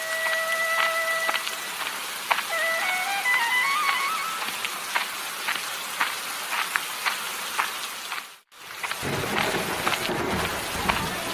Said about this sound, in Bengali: কিরে টুম্পা, এই বৃষ্টির ভেতরে তুই লাউ নিয়ে এসেছিস কেন?